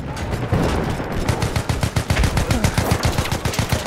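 Enemy machine gun fire in Battlefield 1 hammers out a fast, steady stream of loud, close shots, each crack clearly spaced in a continuous burst lasting the full few seconds.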